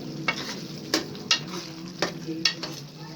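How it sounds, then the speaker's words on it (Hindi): Ground garam masala is stirred into minced meat frying in a pan for bhuna qeema, with several sharp spoon scrapes over a steady soft sizzle. "अब इसको हम अच्छी तरीके से मिक्स करेंगे।"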